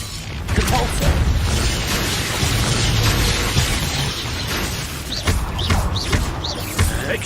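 Spell effect from the Hogwarts Legacy video game, a Depulso force-push cast amid a busy duel with booms and bursts over a constant dense game soundscape, with sharp whooshing sweeps near the end.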